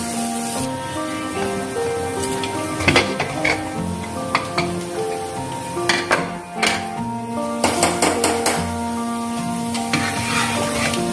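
A spiced tadka tempering for Punjabi-style rajma masala sizzles and fries in a pan, a steady loud crackling hiss with bursts of spattering and occasional scraping of a spoon against the pan, no voices.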